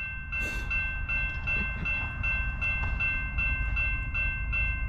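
A Norfolk Southern freight train led by an ES44AC locomotive rumbles closer with a heavy low drone, steady rhythmic wheel clatter and a sustained high tone from the horn or signal, loud and continuous throughout.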